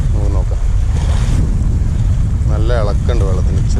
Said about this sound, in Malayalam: നല്ല ഇളക്കുണ്ട് വെള്ളത്തിന്, ചെറിയ കാറ്റും അടിക്കുന്നു